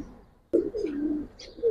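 Pigeons at a busy pigeon market coo close by in one short, low warbling call after a brief quiet start, with faint chirps around it.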